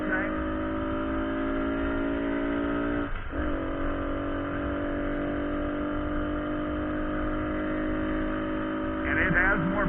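Honda CT90 motorcycle engine pulling under acceleration while riding, a steady harmonic drone with a brief dip around three seconds as if shifting, then climbing again, with wind rush throughout.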